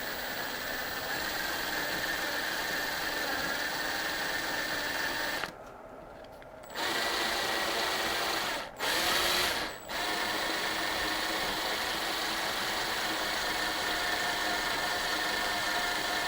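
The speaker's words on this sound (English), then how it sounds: "So I just start the drill bit slowly." A steady mechanical whine of a drill bit turning slowly runs almost continuously, broken by two brief pauses where the motor stops and restarts, close and fairly loud.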